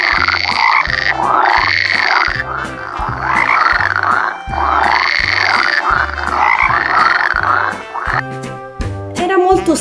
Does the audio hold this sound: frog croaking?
yes